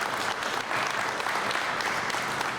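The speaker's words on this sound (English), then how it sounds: "So let's give his staff a round of applause" Dense, even clapping from a gathered crowd applauding staff at a community event, loud and continuous throughout without a break, no voices standing out.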